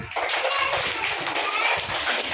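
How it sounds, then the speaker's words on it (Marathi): A group, likely including children, clapping their hands together in a dense, continuous patter of applause for a couple of seconds, with voices mixed in. "चला टाळ्या वाजवा."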